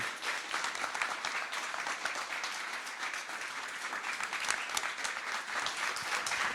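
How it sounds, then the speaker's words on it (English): Audience applause welcoming three footballers, Stephen Welsh, Alistair Johnston and Maik Nawrocki, onto the stage of a live podcast show: dense, steady clapping from a large crowd, loud and sustained throughout with no pause. "Give a big round of applause for Stephen Welsh, Alistair Johnston and Maik Nawrocki."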